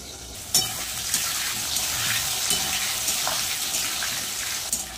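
Potatoes frying in a pan of oil for a Bengali cauliflower, potato and paneer curry, a steady close sizzle with a few sharp spits and utensil taps, no talking.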